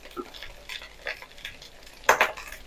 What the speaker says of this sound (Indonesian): Ini dari nasi kemarin ya aku goreng